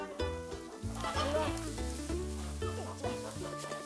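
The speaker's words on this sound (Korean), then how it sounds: "혜정 씨의 또 다른 가족 거위." Geese at a country house honk and cackle up close in a dense, overlapping chorus of calls lasting a few seconds, with no clear speech.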